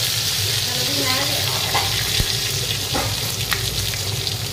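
Chana dal frying in oil in a pot, a steady close sizzle with occasional stirring clinks and faint speech in the background.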